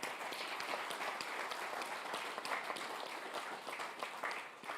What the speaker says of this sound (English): So just another round of applause for the cohort.